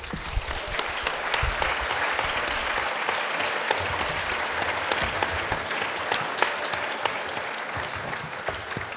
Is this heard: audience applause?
yes